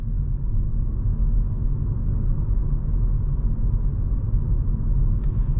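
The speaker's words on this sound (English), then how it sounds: "So currently we are cruising with electric power." A 2026 Renault Clio cruising on electric power at night gives a steady low road rumble and tyre hum from inside the cabin, even and unbroken with no engine revving.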